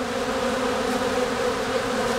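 Honeybees massed at the hive entrance in autumn, a loud, continuous buzzing hum that stays steady and close, with no voices.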